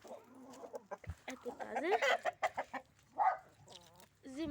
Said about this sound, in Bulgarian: Ето ги двата петела. Ето една кокошка. Това са петели.